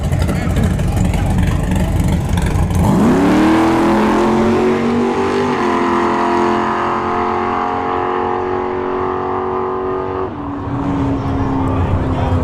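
At a drag strip test-and-tune, a Tesla Model S Plaid and a first-generation Camaro launch side by side, the Camaro's V8 surging from idle into a loud, rising roar, with a track announcer talking over it.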